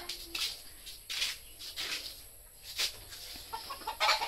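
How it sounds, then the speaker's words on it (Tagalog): Chickens clucking around a house yard, a series of soft, scattered calls at moderate distance over steady low background noise, with no talk. "Ito pa yung mga manok ni Ruben."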